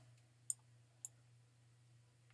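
A computer mouse button clicked three times at even intervals, quiet crisp clicks over a low steady hum.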